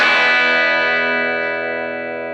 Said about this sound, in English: if you have them set oppositely, as I do now, they're out of phase.